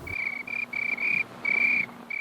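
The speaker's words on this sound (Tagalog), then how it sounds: "Sa tuwing sasapit ang gabi, tanging mga huni ng kuliglig ang bumabasag sa katahimikan" Crickets chirp at night outside the Jose Fabella Center in Manila: a steady, high-pitched trill in repeated bursts of about half a second, close and clear over a low background hum, with no voices.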